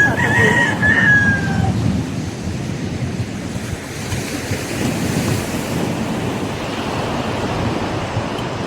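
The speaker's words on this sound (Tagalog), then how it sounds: "Narinig niyo ba yung tilaok ng manok?" A rooster crows near a beach at Infanta, Quezon, its call brief and somewhat distant at the start. Steady surf and wind fill the rest of the clip, and no one speaks.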